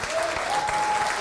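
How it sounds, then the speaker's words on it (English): Steady audience applause for an organizing committee at a Roberto and Vera Clemente commemoration event, a dense, continuous patter of many hands at an even level. "And the rest of my committee a round of applause as well."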